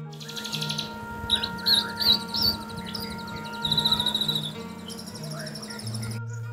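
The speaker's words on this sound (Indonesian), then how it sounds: "burung-burung berkicau di pagi itu" Birds chirp and tweet in the morning, scattered high calls and short trills at moderate distance over a steady background hum with faint insect-like drone, no voices.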